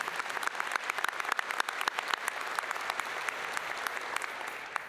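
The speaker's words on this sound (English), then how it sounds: "Another round of applause for our commencement speaker." A crowd applauds the commencement speaker at the 2025 College of Veterinary Medicine graduation ceremony, producing dense, continuous clapping from a large, somewhat distant audience that stays even throughout.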